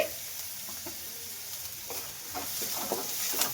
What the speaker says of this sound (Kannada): ಸ್ವಲ್ಪ ಶುಂಠಿ ಫ್ರೈ ಆಗಲಿ ಎಣ್ಣೆಲಿ